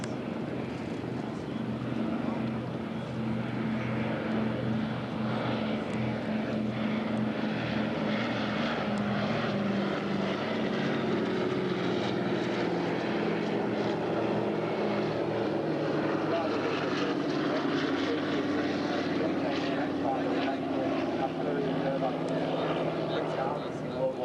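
A propeller aircraft fitted with skis flies past at the Shellharbour airshow, its engine drone steady and sustained with a slowly shifting pitch, while a commentator talks over it throughout.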